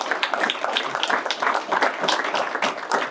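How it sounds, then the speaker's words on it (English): An audience at a city press conference for an aerospace announcement applauds a council member, a steady close patter of many clapping hands that swells and dips throughout without speech. "Yes, give us a round of applause."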